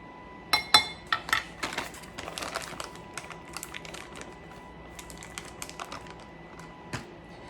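Metal measuring spoons clink and tap against a mixing bowl as a teaspoon of xanthan gum is added to dry ingredients for a low carb bread, a series of close, light clicks loudest at first and thinning to sparse taps, with no talking.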